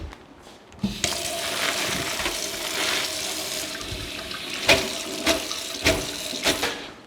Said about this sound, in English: but first I'm going to rinse the parsley.